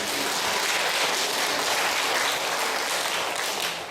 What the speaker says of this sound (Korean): 하나님의 영광의 박수 드리겠습니다